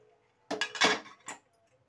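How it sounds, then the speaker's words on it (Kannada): Metal clinks and clatters as a pressure cooker lid is opened after three whistles while cooking drumstick curry, a short cluster of bright, close knocks. "ಕುಕ್ಕರ್ನ ಓಪನ್ ಮಾಡಿ"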